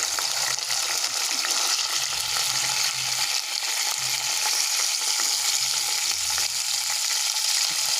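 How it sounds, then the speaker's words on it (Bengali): Fish sizzling and spitting in hot oil in a pan, a steady close frying crackle throughout with occasional stirring or turning noises and no talking. "তো মাছগুলো উল্টে দিয়েছি এক পিঠ ভাজা হয়ে গেছে"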